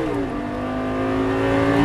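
A Lamborghini Gallardo LP 560 engine revs as the car accelerates on track, the tone climbing smoothly and growing slightly louder over a couple of seconds, heard alone.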